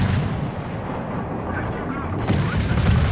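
Main battery of the Akizuki destroyer in World of Warships firing shells from twin-barrel turrets, eight per volley, heard as a continuous rumbling barrage of deep booms that swells louder near the end.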